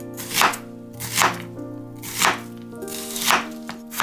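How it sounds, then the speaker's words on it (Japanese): Knife chopping an onion across the grain on a cutting board, four or five sharp, evenly spaced chops over steady background music, no voices. "玉ねぎは繊維が縦に入っているので、この繊維を断つように切っていきます"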